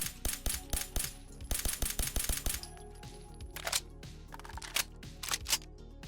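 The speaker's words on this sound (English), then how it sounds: "you'll hold the weapon with two hands and fire it as such" Tec-9 machine pistol fired in Fallout 4, rapid bursts of sharp mechanical shots in quick succession, then sparser clicks and single reports as the firing tapers off.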